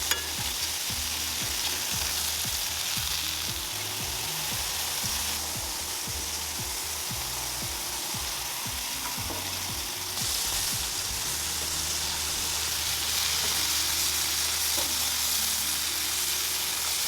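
Romanian mici sausages sizzle steadily on a hot, fat-slicked griddle as a second batch goes on, a dense continuous frying hiss with occasional spatters and scrapes, close and even throughout.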